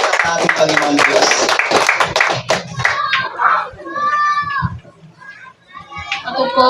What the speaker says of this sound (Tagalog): sabay-sabay na palakpak sa ating Panginoon Diyos